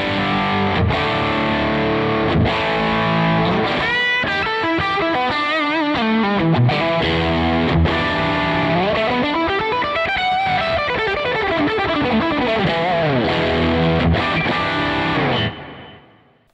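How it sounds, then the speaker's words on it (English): An electric guitar runs through a Great Eastern Effects Focus Fuzz germanium fuzz pedal, playing loud, sustained distorted chords and sliding riffs with clear note definition before the final ring cuts off abruptly. "this is an amazing sounding fuzz that really retains the clarity of the guitar and doesn't sort of flub out"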